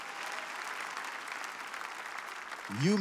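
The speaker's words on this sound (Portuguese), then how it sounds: "Aplaudam Jesus." A church congregation applauding, a broad even wash of many hands at moderate distance, ending with a brief voice.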